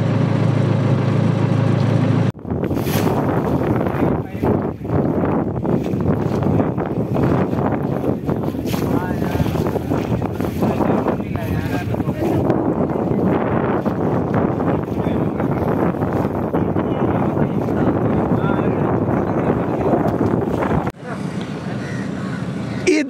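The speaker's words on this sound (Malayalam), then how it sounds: "ഞങ്ങളുടെ ബോട്ട് ഇതാ ഉൾപ്രദേശങ്ങളിലൂടെ കടന്നുകൊണ്ടിരിക്കുകയാണ്." A shikara boat travels through the Kuttanad backwaters, with a steady wash of water and wind noise throughout, a voice talking over it, and birds calling now and then.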